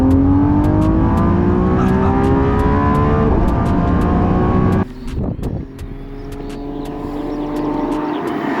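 A hypercar's engine revs hard and loud with rising and falling tones, then drops to a quieter hum that builds again, shifting between electric drive and a V12.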